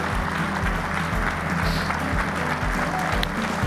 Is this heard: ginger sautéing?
no